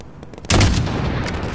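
A burst of loud gunfire erupts in Call of Duty Modern Warfare on a highway battlefield, a heavy boom followed by sustained rumbling fire and echoing blasts.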